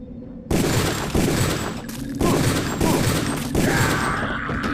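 Bursts of gunfire in the Deus Ex video game, several loud rapid volleys arriving in quick succession with short gaps between, sharp and close, with no voices over them.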